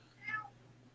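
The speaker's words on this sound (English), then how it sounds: "That's my cat. He's very vocal for some reason." A pet cat gives a single short meow indoors, faint and brief over a low steady hum.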